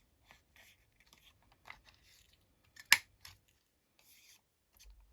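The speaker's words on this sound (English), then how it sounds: "that did not cut very well, Jez." Scissors cutting paper for small vintage craft tags, a few sparse, quiet snips and rustles with one sharper cut near the middle, heard close up in a quiet room without speech.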